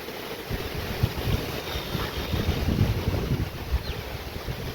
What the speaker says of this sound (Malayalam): ഭയങ്കര കാറ്റാണ് കൊടുങ്കാറ്റ് എന്ന് പറഞ്ഞ ഒരു കാറ്റാണ് പെരും കാറ്റാണ്